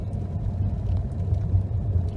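A Mazda CX-30 drives along a winding snowy road, heard from inside the cabin as a steady low rumble of engine and tire noise with faint higher hiss, continuous and even throughout, no voices.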